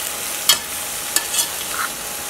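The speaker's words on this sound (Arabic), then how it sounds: "وأبدي أشوحها مع البامية واللحمة" Okra and meat stir-fried together in a pot, with a few sharp spoon scrapes against the metal and a soft sizzle running underneath.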